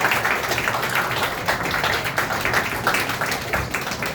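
Students in a school classroom applaud together, a dense, steady wash of clapping that fills the room without pause, loud and close with a faint murmur of voices underneath.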